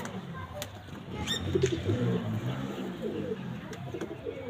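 Low, throaty pigeon coos repeat softly over a murmuring background, with a few faint chirps and wing sounds, at a pigeon sale.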